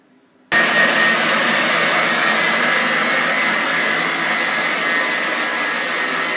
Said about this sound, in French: on est en train de mélanger la mascarpone, les jaunes et le sucre